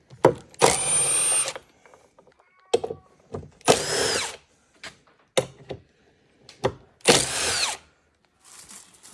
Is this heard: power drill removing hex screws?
yes